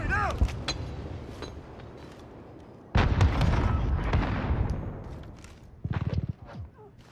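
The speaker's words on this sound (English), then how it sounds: "Grenade out!" A grenade explodes during a Domination match of Call of Duty: Modern Warfare, landing as one loud sudden blast with a long rumbling decay. A burst of rapid gunfire follows, and players talk over the noise.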